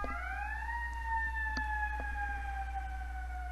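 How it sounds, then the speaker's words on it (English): A fire truck siren wails steadily, its tones sliding slowly downward as it holds on, loud and continuous with no voices. "It's actually a fire truck."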